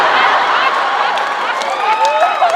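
A convention audience at a Supernatural panel at Chicon 2017 boos together. The sound is a loud, sustained wash of massed voices that fills the room and holds steady throughout.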